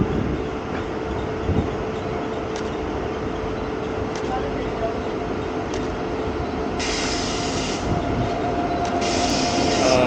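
A Nagercoil–Kottayam passenger train rumbles past close by near Nagercoil station, with a steady roar of wheels on rails and brief high squeals; no one speaks.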